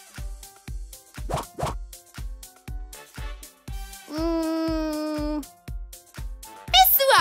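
A cartoon hyena call, a high, wavering whoop lasting about a second, sits inside an educational animal-sound quiz. Rhythmic plopping and bouncy effects come before and after, with a child's babble near the end.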